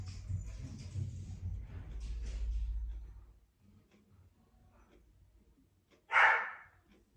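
A pet dog lets out a single short, sharp bark near the end, after a stretch of low rumbling handling noise and quiet.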